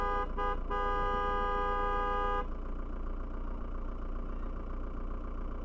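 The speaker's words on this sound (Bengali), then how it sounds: "ভাই গাড়িটা ব্যাক করছে" A motorbike-trip vehicle engine idles and rumbles steadily while reversing on a road near Darjeeling via Mirik, with a horn-like tonal toot over the first couple of seconds before the low engine drone continues alone.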